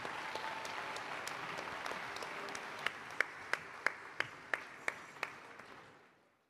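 A crowd at an open-air Ganesh Utsava folk concert in Bengaluru applauds loudly to welcome a singer, a thick wash of clapping that turns into a few sharp rhythmic claps before fading out.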